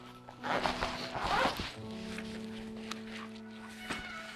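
A Shimoda Action X 30 camera bag is unzipped in one quick, close rasping pull, then a faint steady hum and a few small clicks follow.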